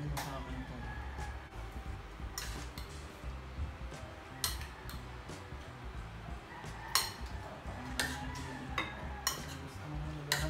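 Cutlery and dishes clink and tick softly during a home meal of pinakbet, tulingan fish and longganisa, with scattered sharp taps against a steady low background hum.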